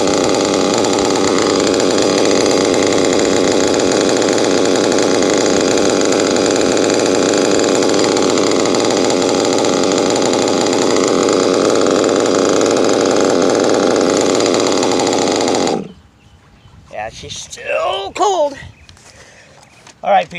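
A modded nitro RC car engine, a PICO, runs at a loud, steady buzzing idle while warming up, then cuts off abruptly, leaving brief voices and handling noises.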